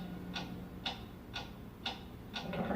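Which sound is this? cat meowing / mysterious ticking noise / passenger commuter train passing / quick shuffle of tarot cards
mysterious ticking noise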